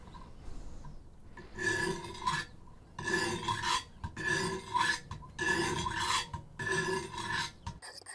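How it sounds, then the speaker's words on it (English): An old, badly worn hunting knife is sharpened on a coarse 100 grit Wicked Edge stone, making six long, close rasping strokes with short pauses between them. "when using the lower grit stones, especially like this 100 grit, it takes off a lot of metal"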